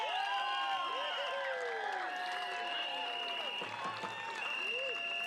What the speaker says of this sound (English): Big round of applause for Freddy.